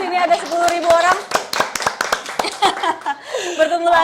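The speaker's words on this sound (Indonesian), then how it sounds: "Tepuk tangan semua yang nonton di sini" A short round of scattered studio audience hand clapping mixed with cheerful voices and laughter, close and lively.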